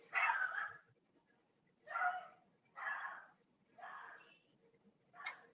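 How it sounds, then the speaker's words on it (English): Five separate barks from an unhappy dog, evenly spaced about a second apart, sound fairly faint and somewhat distant over a quiet room background. "Dog is not happy."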